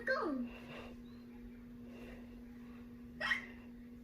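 A cartoon piglet child in a Peppa Pig episode gives two clear, loud hiccups, one at the start and one near the end, with quiet gaps and a steady background tone between.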